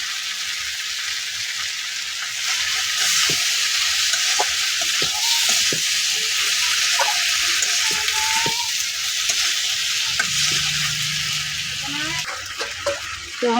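Chopped tomatoes go into a hot pan of vegetables being sautéed at home and sizzle in a steady hiss, with scattered scrapes and taps of stirring and a brief voice near the end.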